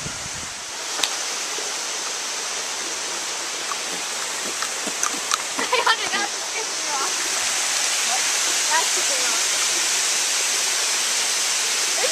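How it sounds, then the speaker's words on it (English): Waterfall in the rocky gorge at Pratt's Falls, a steady broadband rush of falling water, loud and close throughout, with a few faint voices and knocks briefly over it midway. "From the gorge of Pratt's Falls."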